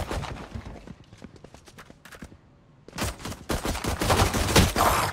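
Pistol gunfire in the Valorant shooter video game comes as rapid, loud bursts of overlapping shots, with a brief lull before a denser final volley.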